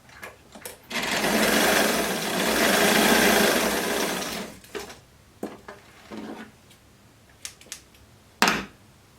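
Blouse fabric runs through a sewing machine in one steady burst of fast, even stitching lasting a few seconds, then the machine stops and brief clicks and fabric handling follow, with no talking.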